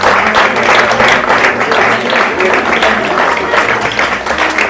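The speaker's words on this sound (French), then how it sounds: "Je vais lui demander de l'applaudir très fort" Loud, dense audience applause at a stage awards ceremony welcoming Miss Prestige France, sustained crowd clapping that continues steadily throughout.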